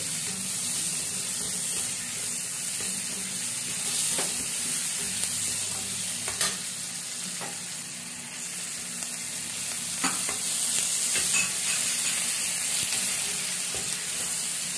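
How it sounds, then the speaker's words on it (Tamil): Garlic, tomato and onion sauté in oil for a village-style dry fish thokku, giving a steady, moderate sizzle. Occasional spoon clicks and scrapes sound against the pan. "நல்லா வதக்கணும். நல்லா எண்ணெயிலே நல்லா வெள்ளம் வெந்துடணும்"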